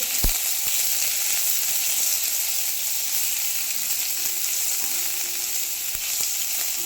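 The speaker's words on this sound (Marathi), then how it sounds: "इथे कांदा आपल्याला छान असा परतवून घ्यायचा आहे" Finely chopped onion sautés in oil for a Kolhapuri white rassa, giving an even, steady sizzling hiss with a faint low hum beneath and an occasional small tap, close and uninterrupted.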